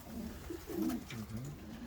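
Racing pigeons in a loft cooing, soft low throaty calls repeating close by over a faint background hum.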